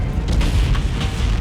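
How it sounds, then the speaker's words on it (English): A power line explodes during a storm in Iceland with a loud, close, deep boom that fills the whole short moment, heavy and rumbling with no voices. "it was at that moment the power line exploded"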